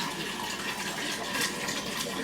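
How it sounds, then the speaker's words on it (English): Vinegar pours into a jar for pickling pork skins, a steady, even splashing stream at close range that continues without a break. "I'm going to add my vinegar to my jar"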